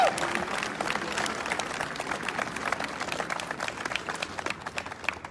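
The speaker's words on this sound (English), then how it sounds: "Let's give him one more round of applause." Sustained applause from a crowd at a military awards presentation, dense clapping that holds steady throughout, fairly close, with a faint whoop at the start.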